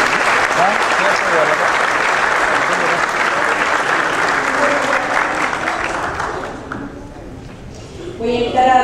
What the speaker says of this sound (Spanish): La recibimos con un aplauso.